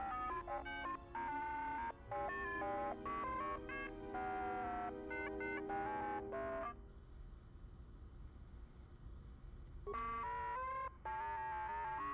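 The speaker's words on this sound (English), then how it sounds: "Kinda sounds like a phone." Phone-like electronic beeping in the Star Wars: Knights of the Old Republic II – The Sith Lords video game: rapid bursts of chirping, dial-tone-like beeps with a short pause, then another burst.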